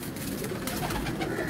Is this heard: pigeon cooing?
yes